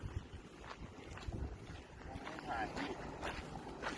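Strong wind gusts buffet the microphone at an airfield during the first flight of a Dusty Piper model plane, a low rumbling roar under nearby talk.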